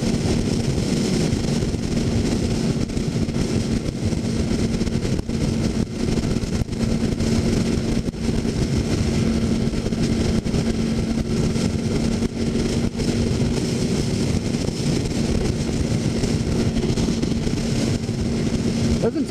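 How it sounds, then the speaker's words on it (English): Cross-plane engine of a liter-class motorcycle running at an international motorcycle show; a steady, continuous engine drone with a constant low hum persists throughout, moderately loud amid hall background noise, with no clear speech. "The crossover engine sounds amazing too."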